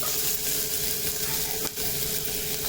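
Chopped vegetables for soup stir-fry on a high gas flame, a loud steady sizzle with scraping stirs throughout and no talking.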